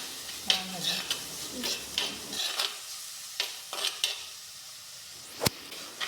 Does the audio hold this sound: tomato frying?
yes